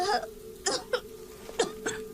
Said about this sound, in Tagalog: Kanina ko pa po napapansin ang ubo ninyo.